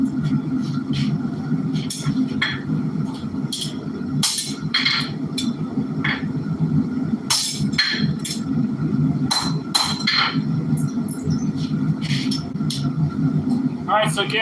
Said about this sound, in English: this is a stainless steel Sanmai billet. The goal is to forge it out into a bar